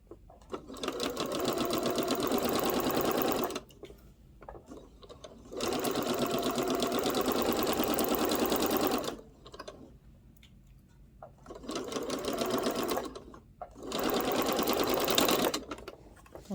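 A sewing machine stitches a rolling hem on a big, flowy dress in four long bursts of steady whirring, separated by short quiet pauses, close and moderately loud with no talking.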